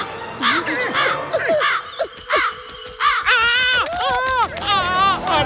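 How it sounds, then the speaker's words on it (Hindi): Repeated crow caws from a white crow in a Hindi 3D animated cartoon, several loud nasal calls in quick bursts, with other cartoon sound effects and voices around them. "अरे मोटू पतलू बचाओ, ये तो सच में सफेद कौवा है भाया।"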